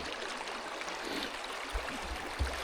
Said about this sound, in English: I was getting video of this like little mini waterfall right here